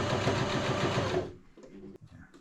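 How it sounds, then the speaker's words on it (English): Sewing machine stitching the hem of a fabric fire kit tool roll: a fast, loud, close mechanical rattle for just over a second, then it stops, leaving quiet handling noises. "So I think I'm going to run another stitch along here, just to reinforce it."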